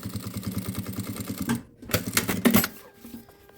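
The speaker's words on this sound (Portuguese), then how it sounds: "eu vou costurar bem rente aqui" A sewing machine stitches fabric close to the edge of a hygiene-kit piece, a fast steady mechanical rattle that pauses briefly midway and then resumes in short bursts.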